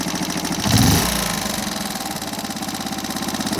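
A Honda CF70 motorcycle engine in neutral, revved and then settling back to an idle that hangs slightly high, with a steady close mechanical chug throughout.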